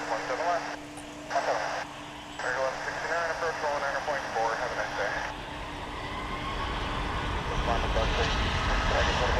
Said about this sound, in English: we want to make sure that you got to see this big old 777